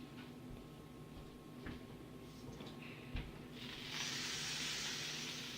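Steady hiss of sausages sizzling on a grill, growing louder and brighter toward the end, with a couple of faint knocks and no talking.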